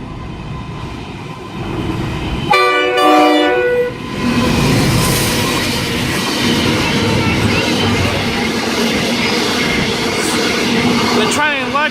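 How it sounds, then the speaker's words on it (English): Freight train 5BW4, led by locomotive NR100 with trailing locos NR19 and 9305, passes a station platform at speed, sounding a loud horn blast before a continuous roar and rumble of wagons fills the rest of the clip. "shortly about to pass platform 1, we have 5BW4 led by NR100"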